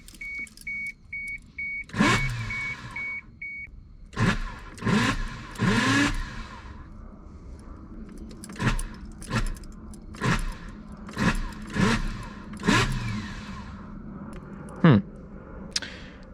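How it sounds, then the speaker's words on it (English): A Toyota MK3 Supra's starter motor cranks the engine in repeated bursts of a few seconds each, several attempts separated by short pauses, close and fairly loud, with a faint beeping chime at the start. "Well, the starter is engaging."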